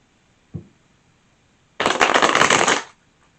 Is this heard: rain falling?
no